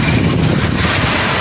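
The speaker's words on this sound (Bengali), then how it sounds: "কিন্তু ঝোড়ো হাওয়া দিচ্ছে।" Stormy, gusty wind blows outdoors on an empty street after heavy rain, a loud, steady roar buffeting the microphone with no break across the short stretch.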